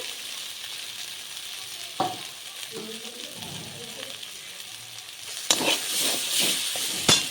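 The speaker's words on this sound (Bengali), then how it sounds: "মশলাগুলো খুব ভালো করে কষিয়ে নেব" Spice paste with salt and a splash of water frying in a pan for a mustard-poppy fish curry, a quiet sizzle with scattered stirring scrapes that grows louder and busier toward the end.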